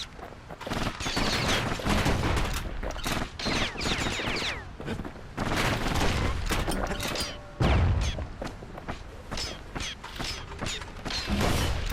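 Weapon fire in the video game Bastion, with repeated mechanical clacks and rattling bursts that come in clusters with brief pauses, close and fairly loud, with no voice heard.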